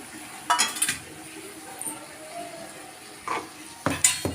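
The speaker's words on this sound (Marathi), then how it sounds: "भेंडी घालून घेऊया आपण." Okra (bhendi) tipped into a pan for masala bhendi and stirred, giving a few soft clinks and scrapes of a spoon against the pan in short bursts, with quiet gaps between and no talk.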